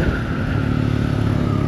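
Scrambler motorcycle ridden on a mountain road toward Rohtang Pass near Manali, its engine a steady loud drone with a low rumbling hum throughout, no voices.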